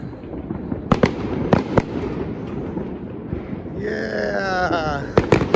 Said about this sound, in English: There we go, we got fireworks over there.